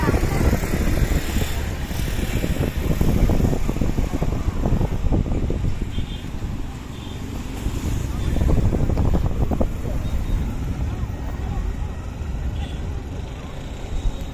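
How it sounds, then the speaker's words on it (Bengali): Wind rushes steadily across the microphone in broad, low gusts, rising and falling, with voices talking faintly underneath. "এখন কিন্তু আরো বেশি ঠান্ডা বাতাস আসছে"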